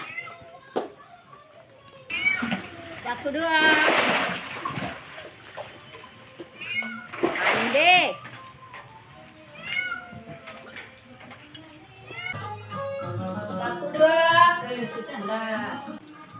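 A rescued cat meows repeatedly in loud, drawn-out cries, with children's voices and other people talking and calling out around it.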